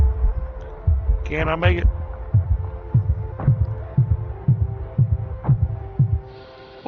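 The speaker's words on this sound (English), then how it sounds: "the heartbeat was getting really loud in the ears" In the Astroneer video game, a loud, low heartbeat thumps at a steady, regular pace, about one beat every half second, under a constant hum, with a brief spoken question early on.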